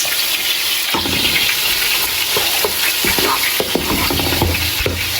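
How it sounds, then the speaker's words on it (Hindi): Chopped onion drops into hot oil for a gravy, bursting into a sudden loud sizzle that settles into steady crackling frying with occasional stirring clinks, close up and without talk. "ग्रेवी के लिए ऑयल भी गर्म हो गया, और अब हम इसमें डालेंगे थोड़ा सा चॉप किया हुआ प्याज"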